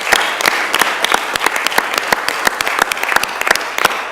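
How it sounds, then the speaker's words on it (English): A crowd applauds at a board of education meeting, with dense, loud clapping that continues throughout. "So let's give our parents a round of applause."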